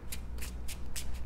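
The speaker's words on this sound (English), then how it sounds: "We're going to shuffle everything up." A deck of playing cards for the Marvel Champions card game is riffled in quick bursts, four crisp shuffling rustles at a steady rhythm, close and clear with no voices.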